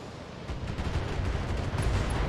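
A volley of 15 LRM missiles launched at a Thunderbolt mech in BattleTech, heard as a dense, rumbling barrage of rapid launches and blasts that builds slightly in loudness over about two seconds, with no talk over it.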